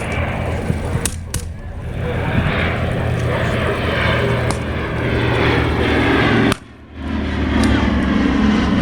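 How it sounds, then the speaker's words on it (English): An AC-47 Spooky gunship propeller aircraft drones loudly overhead at a Vietnam War re-enactment, its deep engine roar steady and rumbling, briefly dipping before swelling again as it passes. "Ladies and gentlemen, the AC-47 Spooky gunship."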